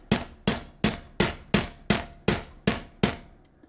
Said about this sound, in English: I'm going to take a ball peen hammer and I'm just going to tap this rod